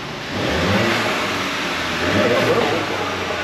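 A turbocharged car engine revs up and holds a steady mid-pitched drone with a slight rise and fall, loud and close, with faint voices underneath.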